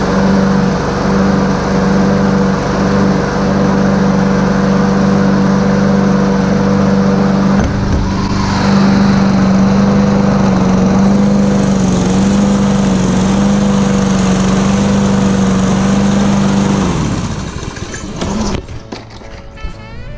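A Toro Personal Pace self-propelled lawn mower engine runs close and loud with a steady droning hum, briefly dipping and recovering midway, then cutting out near the end, leaving rattling handling noises.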